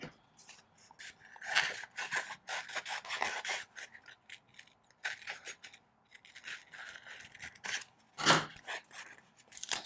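Scissors cutting up paper flowers for a Happy Planner creative journal, close snipping and rasping cuts in short irregular clusters with quiet pauses between.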